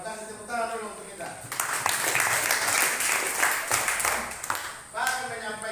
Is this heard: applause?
yes